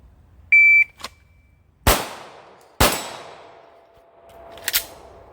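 A shot timer beeps twice at a handgun range, followed by three sharp, loud pistol shots spaced about a second apart, each ringing out briefly in open air, with no talking.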